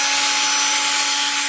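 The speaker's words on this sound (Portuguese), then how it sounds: "Então eu vou ligar agora aqui a furadeira para você ver. Ela vai funcionar numa rotação, ó." An electric drill runs off a homemade high-current power supply, its motor giving a steady, even whine with a constant hum underneath, close and alone for a second and a half.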